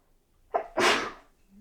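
A single close sneeze from a woman, a short sharp intake followed by a burst, in an otherwise quiet room.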